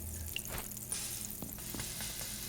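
Food sizzling on a grill in the Abiotic Factor video game, a steady crackling fry with a few small clicks and pops, moderately quiet and continuous.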